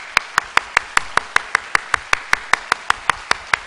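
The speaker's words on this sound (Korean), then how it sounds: "박수로 뜨겁게 환영하겠습니다" At a Korean church gathering, an audience claps to welcome a newcomer, a crisp, evenly paced run of sharp claps with a steady beat and no talking.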